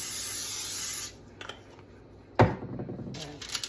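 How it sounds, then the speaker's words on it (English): Short bursts of cooking spray hiss onto a baking sheet in a kitchen, with a long spray at the start and a sharper burst later, followed by quieter rustling. "we're going to spray this baking sheet just to make sure it doesn't stick."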